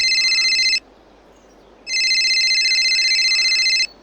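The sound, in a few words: phone ringing in a video game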